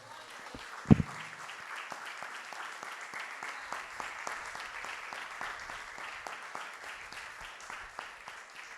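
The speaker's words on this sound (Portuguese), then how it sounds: "Você pode aplaudir o Senhor pela sua palavra" Church congregation applauding during a family worship service, a sustained, fairly soft patter of many hands clapping with one sharp thump early on.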